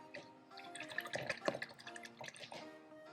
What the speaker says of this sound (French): Je rince bien mon pinceau